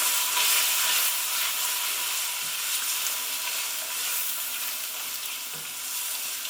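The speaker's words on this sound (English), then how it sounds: "Give that a good stir and let those spices really cook off" Turmeric and garam masala sizzling in a hot pan with softened ginger and garlic, a loud continuous hissing fry that runs steadily throughout, broken only by occasional faint scrapes of stirring.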